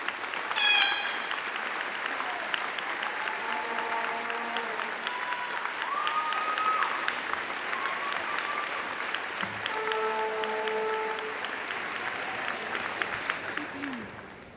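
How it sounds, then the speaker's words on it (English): A graduating high school class applauds steadily at a 2016 commencement ceremony, a broad sustained clapping wash with a few tonal horn-like notes over it and voices faintly under the applause. "let's give ourselves a round of applause as we take the stage"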